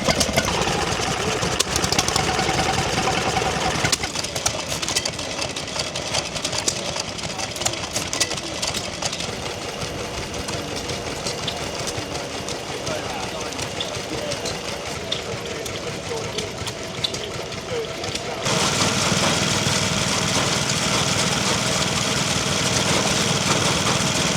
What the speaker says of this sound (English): Next, we'll take a walk down the stationary engine line.